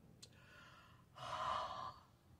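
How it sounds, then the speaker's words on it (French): A breath blown onto a rubber stamp to remoisten its ink before stamping on white card, a soft airy exhale lasting under a second, close and quiet, after a faint short intake. "avec notre vapeur de respiration, venir réhumidifier l'encre puis venir étamper sur notre carton blanc"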